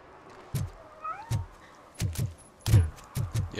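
A cat meows repeatedly in RoboCop: Rogue City, with several short, fairly loud calls spaced irregularly and a few faint tones in the background.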